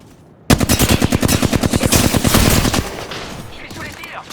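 Rapid automatic gunfire from a video game rings out in one loud, dense burst of shots lasting a couple of seconds, then fades into a softer tail.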